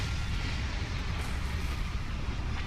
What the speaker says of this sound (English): And there goes our Star Destroyer. The glorious spew of wreckage.